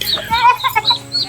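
Chickens clucking close by in a short, loud burst of throaty, chattering calls.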